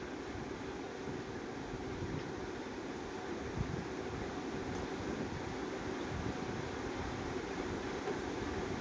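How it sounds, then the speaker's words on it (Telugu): A local train out of Tambaram runs with a continuous low rumble and broad rushing wind noise, steady and unbroken throughout. "ఇక్కడ తాంబరం నుండి లోకల్ ట్రైన్ ఎక్కామన్నమాట"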